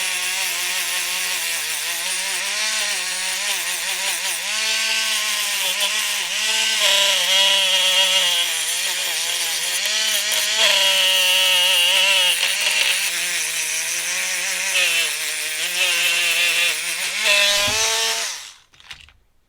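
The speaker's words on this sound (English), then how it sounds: "Let's take these little burrs down on the edge." A rotary power tool grinds steadily along the edge of a flattened metal piece, knocking down burrs in one continuous loud pass that stops abruptly at the end.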